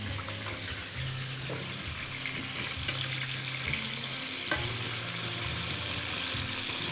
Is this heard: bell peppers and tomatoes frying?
yes